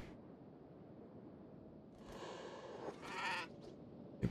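A bleating goat in the video game Kenshi: a drawn-out, quivering call that swells and then fades, with a brief sharp sound at the end over a soft background hum.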